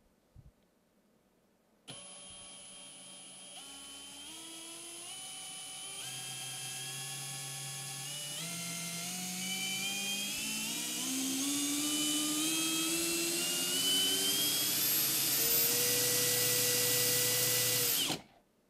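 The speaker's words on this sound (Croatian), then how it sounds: "stavio sam mašinu u drugu brzinu da vidimo kako će raditi" A blue Bosch Professional GSB 18V-65 cordless drill runs in second gear: after a click it whines steadily and climbs gradually in pitch as the trigger is squeezed, then cuts off sharply near the end.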